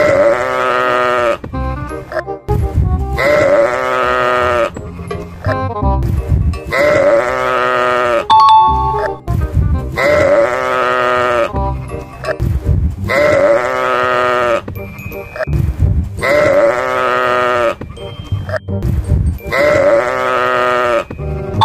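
A person in an Ondel-ondel Betawi costume imitates a goat, giving loud, drawn-out bleats repeated about every two and a half seconds, each one wavering and nasal, with brief gaps between.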